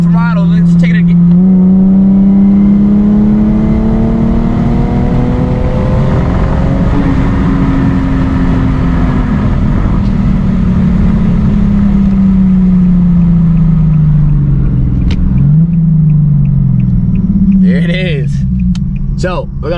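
A 2008 Infiniti G35 fitted with a Sprint Booster accelerates hard, its engine note climbing steadily through the revs and dropping sharply at quick gear shifts, loud and close, with someone talking over it.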